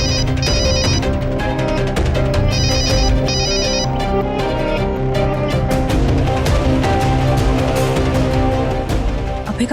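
A mobile phone ringtone plays loudly and continuously, a repeating melodic tune with steady beats and no voices.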